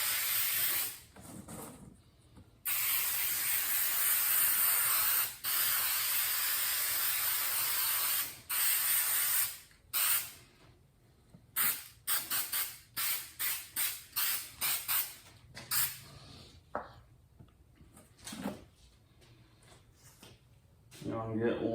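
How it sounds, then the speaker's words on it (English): Spray adhesive hissing onto mesh material in short bursts, first a few long sprays then a rapid run of brief puffs, fairly close and clear, with quiet gaps between them. "add some spray adhesive on it first, just lightly"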